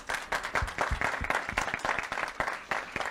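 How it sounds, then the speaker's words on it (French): An audience at a Mister Universel France pageant claps in scattered, distinct hand claps, a fairly thin, uneven applause at moderate loudness. "Applaudir."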